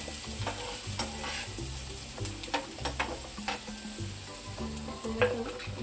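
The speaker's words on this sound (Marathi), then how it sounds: "त्यानंतर मिरची आहे, आणि आधी परतून घेते थोडा वेळ." Green chillies fry in oil in a pan with a loud, continuous sizzle and crackle, while a spatula scrapes and stirs in quick, repeated strokes right up close.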